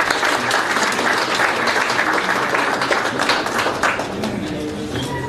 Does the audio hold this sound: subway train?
no